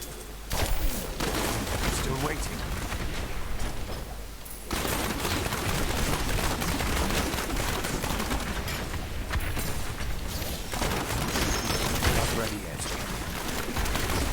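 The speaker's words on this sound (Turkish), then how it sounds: "bombalar patladığı an" Rapid chains of explosions from a Demon Hunter's bombs in Diablo 3, dense crackling bursts running almost continuously with brief gaps, loud and mixed with combat effects.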